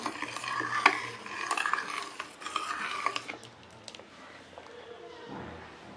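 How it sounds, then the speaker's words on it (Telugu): Jaggery being stirred into a softly simmering sweet potato stew, with a utensil scraping and clinking against the pot in uneven bursts that fade toward the end, over a faint background hum. "బెల్లం వేసుకొని ఒకసారి కలుపుకొని"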